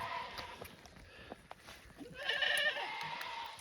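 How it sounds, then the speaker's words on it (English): A homestead goat in an Alaska farm setting bleats loudly and harshly, one drawn-out strained cry rising out of quieter background noise near the end. "the goat that sounds like it's dying is Cooper"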